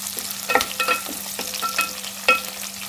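Onions softening in a pan over a medium flame for sambar, with quiet scattered stirring scrapes and clicks over a faint steady sizzle, no talk.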